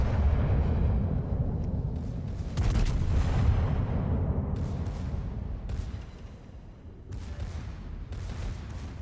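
The Bismarck fires opening salvos from its main guns in a naval video game: heavy booming blasts and rumbling explosions, loud and close, with several distinct thumps spread over nine seconds and no talk.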